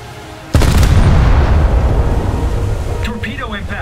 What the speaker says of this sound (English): Torpedo impact. The enemy ship has been torpedoed.